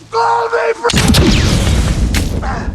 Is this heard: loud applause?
no